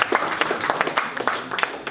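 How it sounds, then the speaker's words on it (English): Audience applause at an Indian banking quiz show semi-final, a steady patter of many hands clapping together, fairly close and dense, with no talk over it. "please do clap once again for team 2 and team 4"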